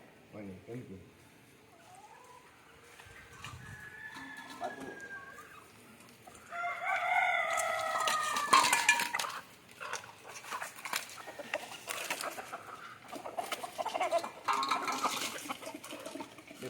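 Native country chickens cluck and squawk nearby while being fed bran, with scattered calls and a rooster-like crow in the middle, under intermittent background talk and rustling.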